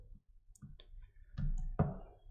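Several soft computer mouse clicks, close and irregularly spaced, with one sharper click near the end in a quiet room.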